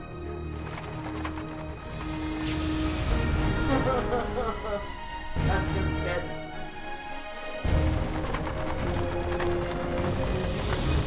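Horse hooves clip-clopping and a neigh in the Dark Parables 5 video game, a steady galloping rhythm under game music with people talking over it.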